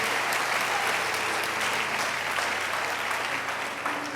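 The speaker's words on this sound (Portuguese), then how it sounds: "para Jesus e para a pessoa que está do seu lado, uma salva de palmas" A church congregation applauds steadily at a conference service, a dense even wash of many hands clapping at moderate distance with no voices standing out.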